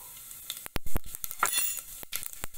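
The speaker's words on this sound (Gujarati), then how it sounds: "ઘી આપણું ગરમ થઈ ગયું છે ગેસની ફ્લેમ સ્લો કરી લેશું અને તેની અંદર એક ટેબલ સ્પૂન જીરું ઉમેરવું" Cumin seeds crackling in hot ghee over a low flame, a sharp close sizzle with quick popping bursts and a few light clinks of a spoon against the pan.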